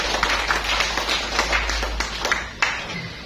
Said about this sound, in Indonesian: Tepuk tangan untuk Klaten Selatan.